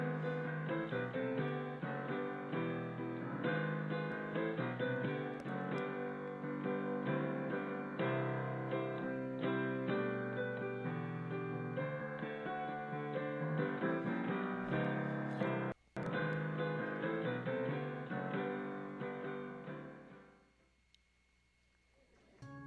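Sustained church service music, full and steady for about twenty seconds, fading away near the end with a brief dropout along the way, no voices over it.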